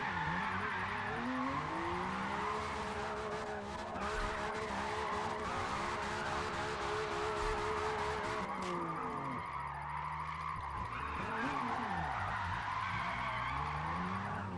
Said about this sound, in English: we're gonna burn the tires again